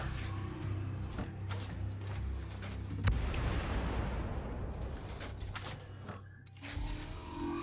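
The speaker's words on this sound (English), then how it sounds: "I hear the explosions." Explosions boom in a 3D video game, with a sudden blast followed by a rumbling wash of debris over steady mechanical background noise, moderately loud throughout.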